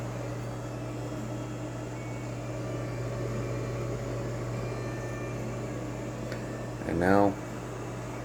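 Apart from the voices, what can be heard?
Ninja Combi cooker running while cooking Hamburger Helper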